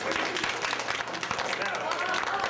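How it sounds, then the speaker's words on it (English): Audience applause for a volunteer named Eddie at a live science show with a Van de Graaff generator, steady clapping from a crowd of many hands, fairly even and moderately loud, with some voices mixed in. "Give Eddie a round of applause"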